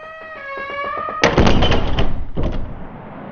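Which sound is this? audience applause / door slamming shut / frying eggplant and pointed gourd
door slamming shut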